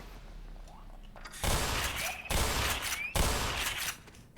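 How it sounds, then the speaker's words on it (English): Shotgun fire in Black Mesa, three loud close blasts at roughly one-second intervals with short ringing tails and faint background noise between them. "Now I use the shotgun for this part."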